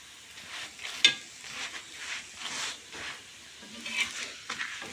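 Parathas fry in a pan with a soft, steady sizzle, faint and close, broken by a few light scrapes and one brief clink.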